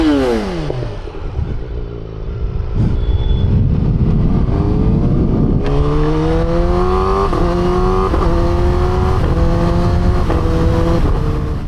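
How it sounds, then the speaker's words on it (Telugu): A Kawasaki ZX10R motorcycle revs hard and loud and close, its engine note climbing through repeated rising pulls and shifts, with a steady, powerful roar throughout. "ఆయన బైక్ డ్రైవ్ చేయమంటున్నాడు, కానీ అనవసరమైన సౌండ్ పొల్యూషన్ అలా హ్యాపీనెస్ కోసం తప్పదు."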